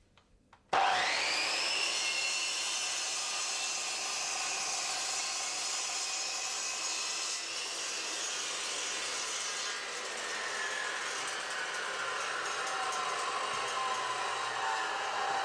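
A power saw mounted on a Triton Workcentre spins up sharply and cuts through four pieces of wood at once, a loud sustained whine that holds steady and shifts slightly in pitch as the blade bites.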